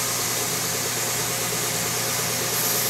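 An oscillating belt sander works a figured wild cherry slab, producing a loud, constant whirring grind with a rough, hissy edge that stays steady for the whole moment.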